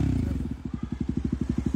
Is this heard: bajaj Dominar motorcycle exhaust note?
yes